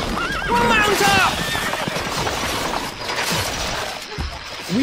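Horses whinny loudly in the medieval strategy game Stronghold Crusader HD, their neighs rising and falling among clip-clopping hooves and clanking gear, while in-game voices of soldiers call out over the busy battlefield din.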